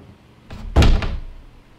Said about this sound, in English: Don't be slamming my doors like that.